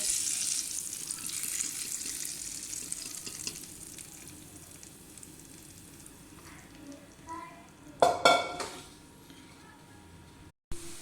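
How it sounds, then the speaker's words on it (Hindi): Steady sizzling of lentils cooking in a pot with a few louder clatters of a spoon scraping against the pot near the end, fairly close. "दाल हमारी पक रही है, इसको साथ साथ हिलाते जाएं अच्छी तरह से।"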